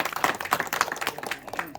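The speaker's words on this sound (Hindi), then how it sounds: "एक बार ताली बजाओ" Scattered claps from a village audience at a BJP candidate's rally, irregular and moderately close, a short burst of applause with no talk over it.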